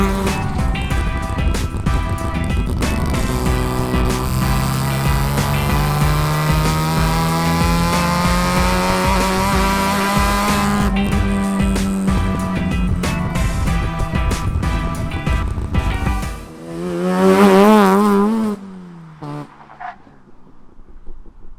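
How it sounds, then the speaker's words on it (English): A 1972 Mazda RX3 coupe with a 10A rotary engine drives steadily, its loud, continuous engine note rising and holding through most of the run before easing off and fading near the end. "I drive a 1972 Mazda RX3 10A Coupe."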